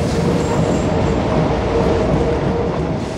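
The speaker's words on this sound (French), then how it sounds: "Mais le métro s'arrête pas?" A Paris metro train runs along the track with a loud, steady rumble and rattle of wheels and carriages heard from inside, continuous with no pauses.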